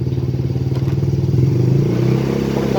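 A Yamaha Mio scooter engine idles close by with a rapid, even putter, then revs up smoothly and holds a higher, louder pitch toward the end.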